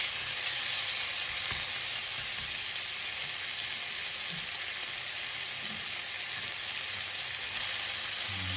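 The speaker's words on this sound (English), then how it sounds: "I'm now going to mix in with the onions and the garlic." Chicken pieces sizzle and fry with onions and garlic in a hot pan for a casserole, a steady continuous crackle with faint stirring, close and even throughout with no talking.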